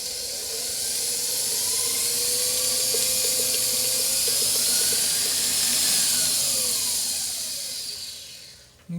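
A butter batter for a gluten-free caramel coffee cake being mixed: a continuous whirring hiss with a motor-like whine that rises and falls for about nine seconds, then stops abruptly. No voices.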